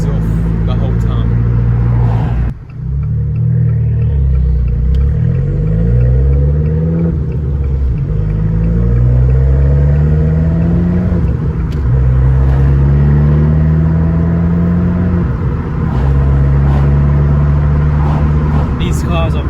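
An Abarth 595 hatchback drives along with a low, rumbling engine note that rises and falls through the gears, heard from inside the car for the whole stretch, with a brief dip as it shifts.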